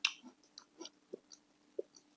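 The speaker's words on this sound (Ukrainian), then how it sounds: "воно класно хрумтить" Crisp crunching bites of a crunchy Asian snack, several separate quiet crunches spaced irregularly, close to the mic with no talking.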